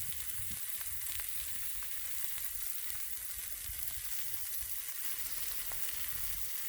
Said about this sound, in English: And this griddle's pretty hot, so. Like I said, everything cooks very fast.